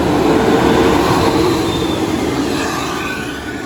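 Mila Sejahtera intercity bus nicknamed Chamber, running the Banyuwangi–Jogja route, arrives with a loud, steady engine rumble and road roar close by that eases slightly as it passes.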